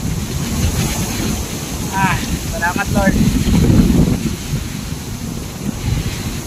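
Strong typhoon wind roars and buffets the microphone steadily throughout, with gusts surging louder midway. A person speaks briefly over the noise.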